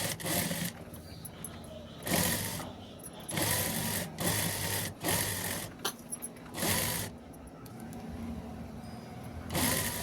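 A domestic sewing machine stitches bedsheet fabric into a seat cover in loud, close bursts of whirring, several runs of a second or so each separated by short pauses.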